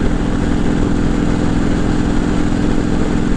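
A motorcycle engine runs steadily during a ride toward Barnegat Light on Long Beach Island, a loud, close, rumbling drone with an even pulsing throb and no breaks.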